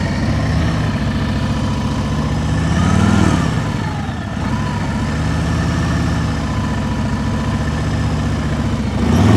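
A motorcycle engine putters at low speed during slow riding practice, a steady idling rumble that swells briefly twice as the throttle opens, heard up close with no talk.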